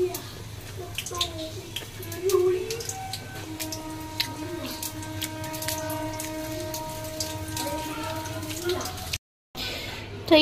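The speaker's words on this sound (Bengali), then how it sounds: "তারা মাছের জলটা ফেলে দিই।" Water left from washing fish is poured away in a home kitchen, a steady splashing patter like rain on a hard surface, with faint ringing tones in the background.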